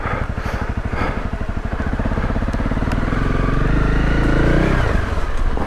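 A Honda CRF 250 Rally motorcycle descends an off-road slope, its single-cylinder engine close and loud with a pulsing low thump that steadies and swells into a firmer drone before easing near the end.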